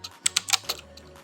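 Fingers type on a computer keyboard in a quick, uneven burst of about six or seven crisp, close keystrokes, followed by a lighter tap or two, with no voices.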